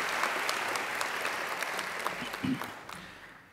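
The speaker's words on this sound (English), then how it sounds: "needs another great round of applause for a great occasional address" A large audience applauds at a university graduation ceremony at Macquarie, with dense, steady clapping that gradually thins and fades toward the end.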